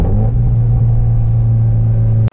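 A modified 2013 Scion FR-S rumbles while driving, a loud, steady low engine drone with strong harmonic hum heard close up and alone, cutting off abruptly at the end.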